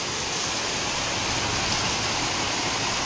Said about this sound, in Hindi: केते जोर वर्षा लो